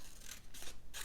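Scissors cutting paper for a collage, three quick, close snips in a row, each a short, crisp rasp, faint and alone with no talk.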